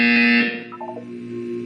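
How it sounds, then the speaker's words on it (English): In the video game Portal 2, a harsh electronic buzzer blares loudly for under half a second, then a short burst of fainter chirpy tones follows over a low steady hum. "You will hear a buzzer."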